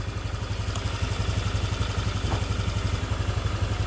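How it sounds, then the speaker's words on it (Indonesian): A motorcycle engine runs steadily nearby, a rhythmic low chugging pulse that holds an even idle throughout. "Finally, start riding your motorcycle."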